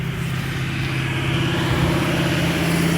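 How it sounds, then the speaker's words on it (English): A car passes on a residential street outside a house, its steady engine and tyre rumble holding loud and close for a few seconds, with no talking. "wait for this car to go by"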